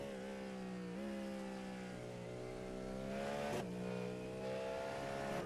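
A race car in a racing video game at Virginia International Raceway spinning its wheels down a hill, the engine droning steadily with pitch dips at gear changes and a brief squeal, no voices.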